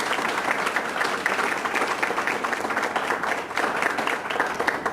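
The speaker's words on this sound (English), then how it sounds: "let's give Dale and Keipert a big round of applause" An audience applauds after a talk on email marketing, giving a steady, sustained round of clapping at moderate loudness with no speech over it.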